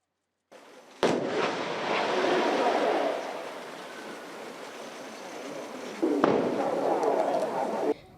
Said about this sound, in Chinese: 拖式反装甲飞弹正准拍到1500公尺外的靶船